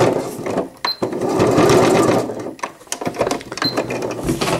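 A sewing machine back-stitching an all-in-one cloth diaper, with a steady close mechanical whir broken by short pauses and restarts as the needle pivots and reverses.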